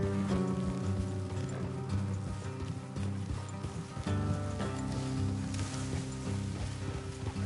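Horses ride along a road in the Red Dead Redemption 2 video game, their rhythmic hoofbeats thudding steadily beneath a sustained musical score, close and continuous for the whole stretch.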